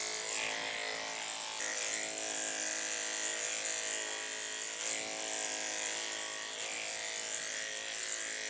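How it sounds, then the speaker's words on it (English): Electric dog clippers run continuously down the back of a miniature schnauzer's thigh, a loud, steady, close buzzing hum with no pause and no talk. "I'm going to take the clipper right down the back of the thigh and slide it off at the hock."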